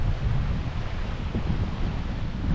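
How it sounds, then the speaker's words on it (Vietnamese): Strong wind roars steadily across a beach lined with coconut palms, with ocean waves surging underneath in a loud, unbroken wash close to the microphone. "phía ngoài này là sóng biển biển đấy, mình đi qua tham quan cho các bạn thấy nha gió ở đây rất là mạnh đấy"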